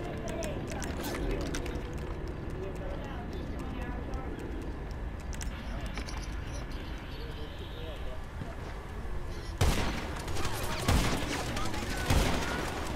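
Video game gunfire crackles in quick bursts, with busy shots and clatter running beneath frequent player chatter and a denser, sharper flurry toward the end.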